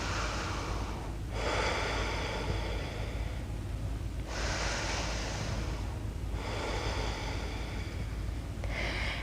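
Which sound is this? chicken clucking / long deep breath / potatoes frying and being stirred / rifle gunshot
long deep breath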